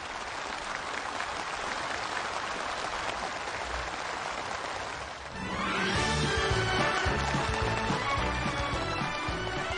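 Enthusiastic applause fills a factory opening ceremony, a steady dense roar of clapping from a large crowd that swells louder and fuller midway through and continues without talk.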